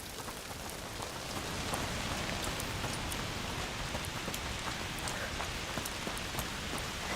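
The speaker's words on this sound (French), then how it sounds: "Saleté de pluie." Steady rain in the video game A Plague Tale: Requiem, a continuous dense patter of drops hitting surfaces, even and moderately quiet throughout with no talk.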